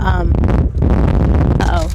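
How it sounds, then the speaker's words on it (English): Heavy wind buffets the microphone with a constant low rumble and roar while a person talks underneath it outdoors. "it's windy, so I'm outside"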